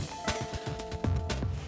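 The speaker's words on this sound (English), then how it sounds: "Karen, did I really need the doorbell" A doorbell rings at a modern house with big glass windows, sounding a short clear chime, moderately close, over faint background noise and knocks.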